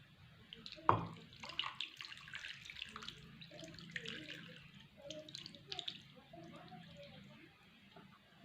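Water runs into a cooking pot in a kitchen as masala is made for chicken sandwiches, a continuous splashing pour with a sharp clunk near the start and a rushing, bubbling flow that holds steady.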